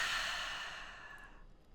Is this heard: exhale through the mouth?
yes